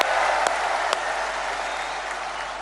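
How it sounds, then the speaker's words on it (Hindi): Audience applause welcoming the Prime Minister at a Bhoomi Poojan ceremony, a steady dense wash of clapping from a large crowd that holds loud throughout, with a couple of sharp louder claps near the start. "एक बार दोनों हाथ ऊपर उठा के तालियां बजा के स्वागत कीजिए"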